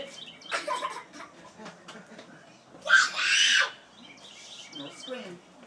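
A young girl playing ball lets out a loud, shrill squeal in one burst among background chatter and scattered voices, with other people talking around her.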